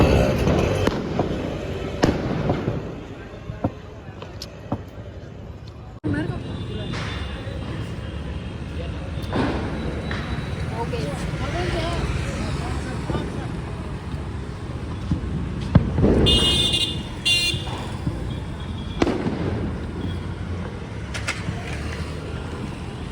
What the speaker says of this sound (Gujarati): અરે આમ તો ફટાકડો નાખ્યો